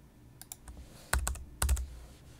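Typing on a computer keyboard: a few scattered light taps, then two quick clusters of louder, close keystrokes.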